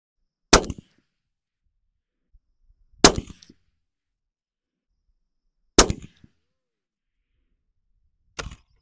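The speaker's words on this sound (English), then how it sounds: "So for this first string of rounds, I'm going to fire at the center dot in the paper." Four sharp, loud unsuppressed precision rifle shots ring out at a paper target, spaced about two and a half seconds apart, each a crisp crack with a short decaying tail and near silence between.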